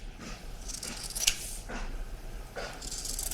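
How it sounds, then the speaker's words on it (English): Fabric scissors trim back seam allowances on a waistcoat, giving a few short, crisp snips spaced through a faint, quiet background. "before we can do that, we want to cut back our seam allowances"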